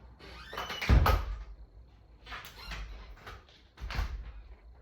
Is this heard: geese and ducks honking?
no